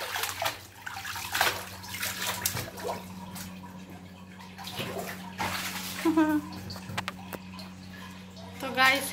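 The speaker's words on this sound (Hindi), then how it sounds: "तो गाइस ये नहा रहे हैं।" A child is bathed, with irregular splashes, sloshing and running water, fairly close, while people talk and a steady hum runs underneath.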